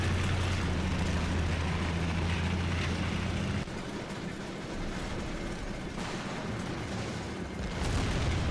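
A heavy artillery shell lands in a video game with a deep, booming impact, a low rumbling blast that rolls on beneath a continuous engine drone and fades into distant noise.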